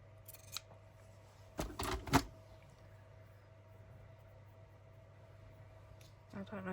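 Scissors snip through cheesecloth during a paper-craft session, a few close, sharp cutting sounds clustered together, then quiet room tone before a faint rustle at the end.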